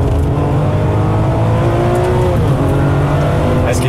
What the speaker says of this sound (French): on va tirer les tours pour voir un petit peu comment fonctionne la boîte.